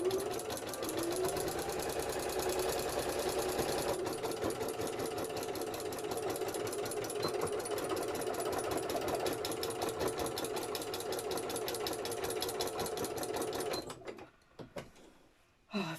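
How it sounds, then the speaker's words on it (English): Nearby sewing machine sewing a journal bag, humming and clattering in one continuous even run for about fourteen seconds, then halting with a few faint handling clicks. "Let's get that sewn."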